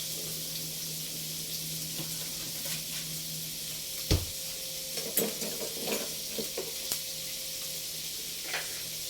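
A small knob of butter sizzles in a cooking pan as a fish stew with salted egg gets started, a soft steady hiss with a few scattered clinks and stirring knocks, no voices.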